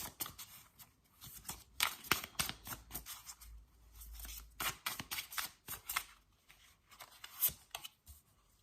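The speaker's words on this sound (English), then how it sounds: "So let's lay out some cards and see what pops up for you." Tarot cards shuffled and laid out, a faint string of soft riffling flicks and papery slaps coming in irregular clusters, close and quiet with no talking.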